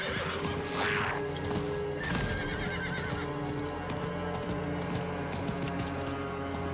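A horse whinnies loudly in Diablo IV, its cry rising early, then hooves clip-clop steadily over a dense game soundtrack of music and ambient effects.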